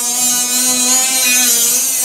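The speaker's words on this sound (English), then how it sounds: "Cutting into the Bondo in the rotted rocker." Power tool cutting into Bondo filler in a rotted rocker panel of a 240sx: a sustained, steady high-pitched whine with a grinding hiss, close and continuous without pause.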